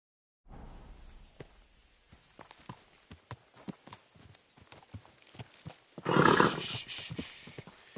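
Hooves clip-clop in an uneven trotting rhythm in a video game, a run of distinct close thuds building up, then a louder burst of rustling noise and further hoofbeats, with no speech.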